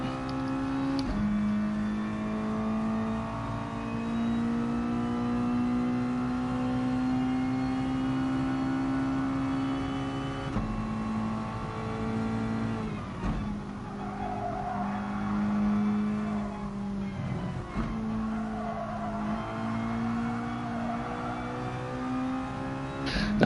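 A Mazda touring car engine at Suzuka in a racing video game, droning steadily near and loud with rising revs through the gears and a couple of brief dips as the throttle lifts, heard alone without talk.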